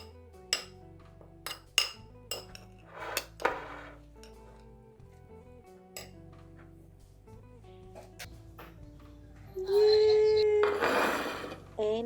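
Kachumbari salsa with vinegar is stirred in a bowl, giving a series of sharp, separate clinks of a utensil against the dish, close and sparse, before a person starts talking.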